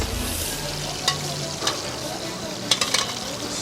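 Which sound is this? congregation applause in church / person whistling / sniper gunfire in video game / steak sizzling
steak sizzling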